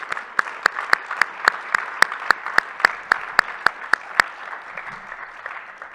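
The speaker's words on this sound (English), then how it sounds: "give her a warm round of applause" Applause for Nancy Buffington at a Boise State University event, with a few distinct loud hand claps in a steady rhythm over a soft crowd patter, thinning out after four seconds.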